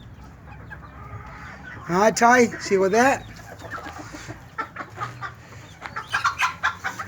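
A six-month-old rooster, a short little bird at a chicken ranch in Tijuana, gives several loud bursts of clucking and calling nearby, with other fowl and a person's brief speech mixed in.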